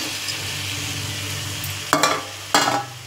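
Fried seer fish pieces being stirred into masala in a pan, a steady sizzle under two sharp, loud scraping strokes of the spoon near the end.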